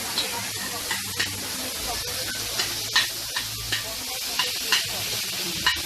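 Onion, pepper and garlic sizzle steadily in a cooking pot, with a constant frying hiss broken by repeated scraping and stirring knocks at an irregular rhythm, close and moderately loud.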